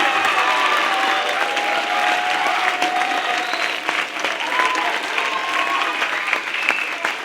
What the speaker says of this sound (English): Please round of applause for all of the directors and students from tonight.